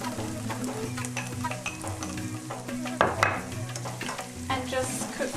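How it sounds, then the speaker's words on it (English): Ground meat frying and sizzling in a pan for pastitsio, a steady hiss with repeated scraping stirs and occasional utensil clinks against the pan, close and fairly loud, no talking. "fry this for another 10 minutes"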